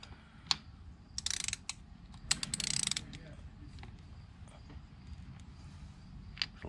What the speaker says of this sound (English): I'm gonna take off this lock nut that's outside of here